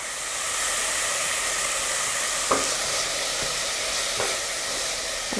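Five garlic cloves sautéing in a hot pan for lentil dahl, a steady loud sizzle with a few brief stirring clicks and taps, no voices.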